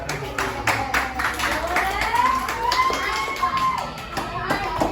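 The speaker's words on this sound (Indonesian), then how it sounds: "tepuk tangan dulu untuk mereka berdua" Classroom applause from students and teacher for two pupils during a school lesson, a brief burst of hand clapping mixed with children's chatter and a sweeping tonal whistle-like sound in the room.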